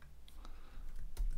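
Computer keyboard typing with a few key clicks while an app group is set up in Xcode for a WidgetKit widget, close and moderately soft, a short run of taps ending in a sharper click.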